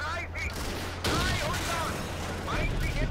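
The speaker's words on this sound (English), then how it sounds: "There's a machine gun somewhere." Machine gun fire in the World War II tank game Steel Fury, set on day one of Operation Barbarossa at the Bug River, heard as sharp bursts of shots over a low, constant engine rumble.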